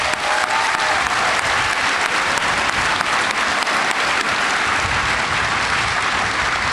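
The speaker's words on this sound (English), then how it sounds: "Please join me in a round of applause welcoming these new Americans." A large crowd applauds steadily and loudly for newly naturalized American soldiers at an Army basic combat training graduation, with dense, even clapping throughout.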